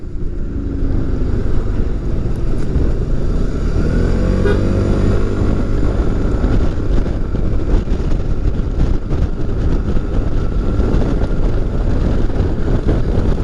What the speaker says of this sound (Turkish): dediğim gibi muazzam bir rüzgar var